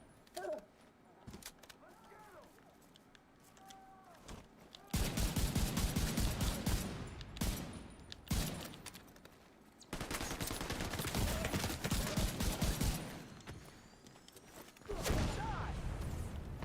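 Bursts of rapid gunfire in a PS5 shooter crackle in long dense stretches with short quiet gaps between them, loud and close, and a voice talks during the quieter moments.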